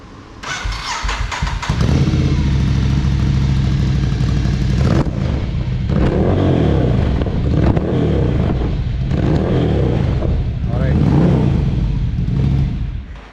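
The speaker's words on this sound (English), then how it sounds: "let's start it up without the DB killer" A Ducati Monster motorcycle engine cranks and fires up loudly, then roars and revs hard with an open HP Corse exhaust, its dB killer removed, close by and with no talking.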